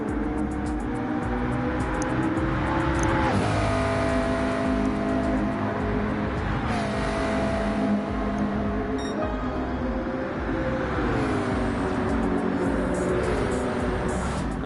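A race car engine climbs through the gears in Gran Turismo 7 at Fuji. The loud, continuous whine rises in pitch, drops at each shift, then climbs again, three times.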